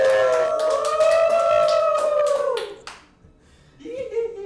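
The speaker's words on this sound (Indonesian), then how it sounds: "Tepuk tangan para hantu." Studio audience clapping on a ghost-themed show, a quick run of claps under a loud wailing, siren-like howl that sounds for about three seconds before stopping, followed by a brief voice.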